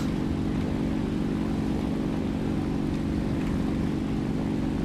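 Steady droning of an Fw-190 A-1 propeller engine in a flight simulator game, a continuous low buzzing hum at even loudness with no voices heard.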